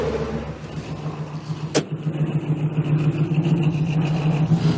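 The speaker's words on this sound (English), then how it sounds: "I was spinning my tires over the corner" A car revs and spins its tires around a corner, its mid-pitched engine droning steadily and rising toward the end, with a brief sharp clatter near the start.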